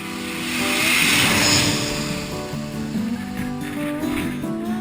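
A low-flying airplane coming in to land passes overhead in the Caribbean, its broad roar swelling to a peak after about a second and then easing off, with tonal background sounds running underneath.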